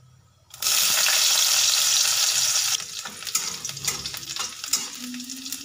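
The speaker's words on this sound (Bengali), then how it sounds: "দিয়ে দেব কালো জিরে, দেব শুকনো লঙ্কা, এবার দেব বেশ অনেকটা রসুন" Garlic, black cumin and dried red chillies hit hot oil in a pan with a loud, steady sizzle, then settle into quieter crackling frying with occasional stirring clinks.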